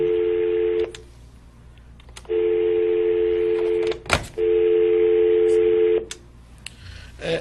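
Telephone line tones from a faulty phone system on a call-in show: a steady dial tone sounds in three long stretches broken by pauses and sharp dialing clicks, loud and clear with no talk.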